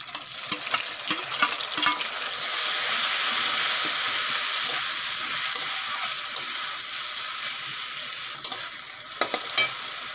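Grated tomato fries in a pan with a steady, moderately loud sizzle, broken by scraping stirs near the start and a cluster of sharper clatters of a spoon against the pan toward the end.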